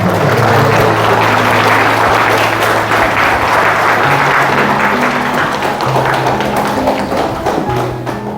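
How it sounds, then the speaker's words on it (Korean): An audience at a lecture forum applauds loudly and continuously to welcome a guest speaker, a thick, sustained roar of many hands that fades slightly at the end, while background music tones sit underneath. "힘찬 박수로 모시겠습니다"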